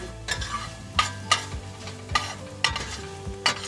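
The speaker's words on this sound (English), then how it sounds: "just continue to saute that around a little bit" Garlic and vegetables sauté in a pan for a vegan quinoa enchilada dish. Soft frying sizzle sits under repeated sharp scrapes and clatters of stirring at an irregular rhythm, close up and with no voices.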